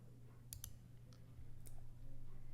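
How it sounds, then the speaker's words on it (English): A few crisp computer mouse clicks, close and quiet, while working in Maya, with a low steady hum behind them. "I'm going to click on UV snap"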